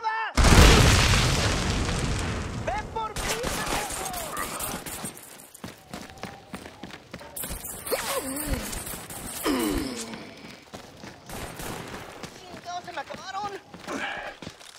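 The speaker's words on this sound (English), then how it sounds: "Grenade out!" A grenade goes off in the Xbox 360 shooter Army of Two: The Devil's Cartel, a loud booming blast at the start followed by gunfire, shouting and more bursts of combat noise, with game characters talking throughout.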